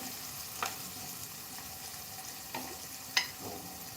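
Onion frying in a pan, a soft steady sizzle with a few faint clicks of stirring, quiet and without talk.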